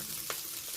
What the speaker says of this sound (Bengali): আমরা বাকি মাছগুলোও ভেজে নেব।